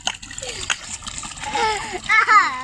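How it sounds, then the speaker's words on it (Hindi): Water splashes and gushes from a broken-off tap at a village house, with a voice and other talk over the rushing flow throughout. "ये तो पूरा नल ही निकाल दिया दर्शन ने अब जल्दी से नल को लगाओ"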